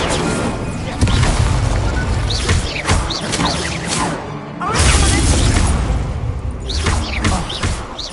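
Incendio fire spell cast in Hogwarts Legacy, with repeated whooshing spell bursts, crashing impacts and thuds in quick succession over a busy combat background, with faint voices underneath.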